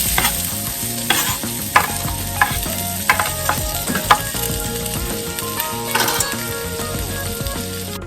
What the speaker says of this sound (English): In our pan we have some butter and olive oil, and we're going to go ahead and get our vegetables in.